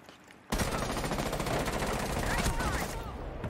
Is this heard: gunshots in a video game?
yes